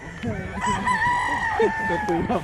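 Gamefowl rooster among breeding stock crowing once in a long drawn call, close and loud, with clucks and other fowl sounds from the flock around it and faint voices in the background.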